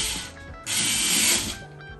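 A power screwdriver drives screws into the frame of a canvas box frame, a steady close whirring burst lasting about a second amid lighter handling sounds.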